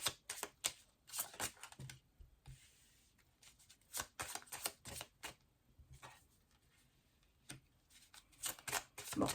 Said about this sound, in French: je vais remettre deux cartes, une là et une là